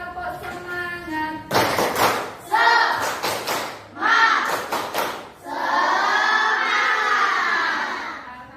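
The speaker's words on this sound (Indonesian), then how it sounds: "Ayo sekarang bersama-sama tepuk semangat" A group of children in a morning class claps a rhythmic cheer in unison. Sharp clap bursts alternate with loud chanted shouts, and the piece ends in a long, sustained group yell.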